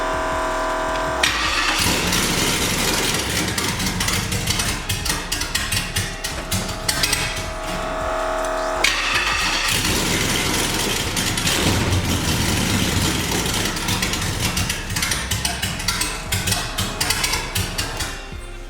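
A swapped 5.3 engine in a two-door truck cranking and catching, then running loud and close with a rough, uneven, rapidly pulsing idle and a brief drop before it picks up again.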